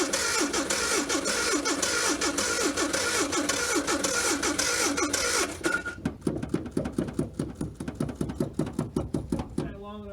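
A 1983 Datsun 720 engine catches on a cold start and runs roughly, a dense chugging idle that thins into uneven, spaced firing pulses, with brief talk nearby.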